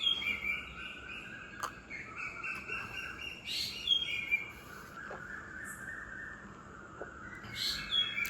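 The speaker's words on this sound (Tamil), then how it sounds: "குருவி, நிறைய பறவைகளாக இருக்குது" Small birds, sparrows among them, chirp and tweet in scattered bright calls outdoors, some sharper notes standing out over a low hum of background noise, no talking.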